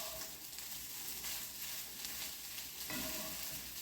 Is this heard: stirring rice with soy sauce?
yes